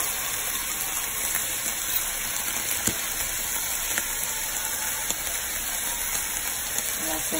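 Chopped onion sizzling in hot oil in a frying pan, a steady broadband hiss that holds evenly throughout with faint crackles, no talk over it.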